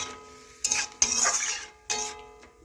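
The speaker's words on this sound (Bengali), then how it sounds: "একটু নাড়াচাড়া করে এভাবে মিশিয়ে নেব সবজিগুলো" Potato and broccoli with water are stirred in a pan, making a few short scraping, sloshing bursts of utensil against metal, close and separated by brief pauses.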